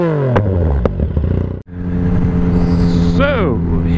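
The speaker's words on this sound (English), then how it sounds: "everything's now a little bit louder because I have my baffle back out" A motorcycle with its exhaust baffle removed runs loud and close, its engine note dipping briefly before swelling back and rising in pitch as it accelerates.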